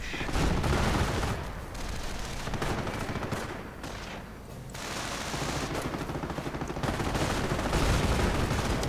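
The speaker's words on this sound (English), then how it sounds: "More rockets against the bunker position here around the remains of the old cafe." Rockets slam into a bunker position near a ruined cafe during a World War II strategy game battle, a loud barrage of blasts and gunfire rising and falling with a brief lull midway.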